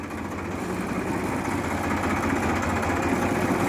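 A fully loaded vehicle's engine runs in gear on a steep downhill road, a steady low rumble with faint vibration, moderately quiet and unbroken.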